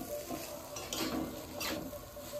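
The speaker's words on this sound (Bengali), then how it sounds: "এবার আমি এই সেদ্ধ আলুটা এর মধ্যে নাড়াচাড়া দিয়ে নামিয়ে নেব" Boiled potato stirred into chicken masala in a pan, with soft scraping stirs and a gentle sizzle, close but quiet, and no talking.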